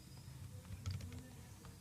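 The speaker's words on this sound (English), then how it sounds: "I'm typing manually because this thing is not having percentage linked to it." Manual typing on a computer keyboard during a depreciation calculation, a quiet run of light, soft key clicks with a few slightly sharper taps, close by and alone without talk.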